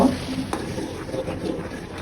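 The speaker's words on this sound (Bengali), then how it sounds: "কনডেন্স মিল্কটা দিচ্ছি আর নাড়াচাড়া করতেছি।" Condensed milk being stirred into already boiling milk for nawabi semai: a steady simmering hiss with soft spoon scrapes against the pot, close and continuous.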